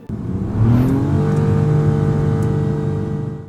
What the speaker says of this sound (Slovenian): precej manj tistega glasnega zaganjanja oziroma CVT ropota kot pri predhodniku